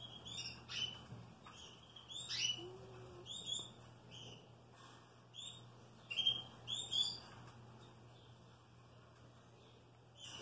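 Green canary nestlings give thin, high chirps while being ringed, in scattered brief bursts over a quiet indoor hum, with no talking.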